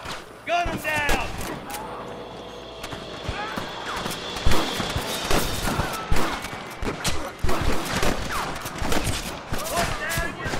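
Bursts of gunfire in the video game Red Dead Redemption, sharp irregular shots and volleys cracking out in quick succession, mixed with shouted voices and game noise throughout.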